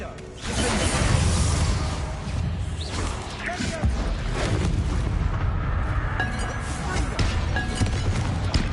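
Bombarda explosion spell in Hogwarts Legacy, heard as dense, continuous rumbling booms and whooshes in a busy battle mix, with a voice speaking over the din.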